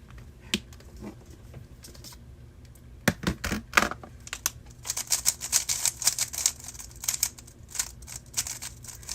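Quiet scratchy strokes and taps from erasing a board and writing a number on it, with soft clicks early on, then bursts of rubbing and marker squeaks. No one speaks.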